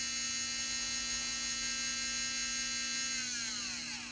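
An RC motor whirs steadily under test on a SkyRC BMA-01 motor analyzer during a timing check, giving a constant electric hum with high tonal whine that holds level throughout, no talking.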